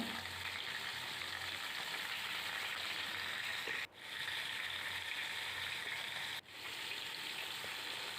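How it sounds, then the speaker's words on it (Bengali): Steady, loud sizzling of fish frying in hot oil in a wok, a continuous crackle broken by two brief dips. "তেল গরম হয়ে গেলে আমি মাছগুলো ভাজার জন্য কড়াইতে দিয়ে দিলাম"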